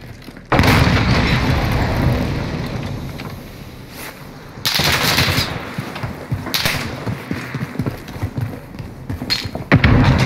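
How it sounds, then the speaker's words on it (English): A grenade explosion in Call of Duty Modern Warfare (2019) arrives as a sudden loud boom followed by a long rumbling tail. A second heavy blast lands midway, then scattered thuds and impacts follow amid ongoing battle noise. "Throwing grenade."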